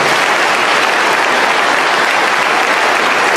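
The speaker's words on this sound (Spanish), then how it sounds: "Un aplauso para ella." An audience at a sermon by Padre Luis breaks into loud, dense applause that holds steady and close for the whole stretch.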